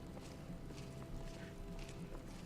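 Horse hooves clip-clopping on a road in Skyrim, a faint, steady rhythmic patter of hoofbeats heard at a distance with low background noise.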